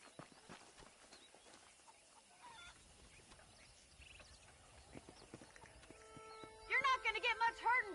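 A horse in the video game Red Dead Redemption 2 on PS5 walks with soft clip-clop hooves, then gives a loud whinny near the end, with scattered game sounds and talk around it.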